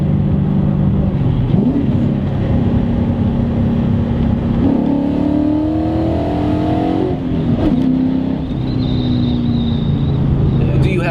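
A Mustang Cobra swapped to a Coyote 5.0 V8 pulls hard under full throttle, its loud engine note climbing through the revs with a shift midway, heard from inside the car while people talk.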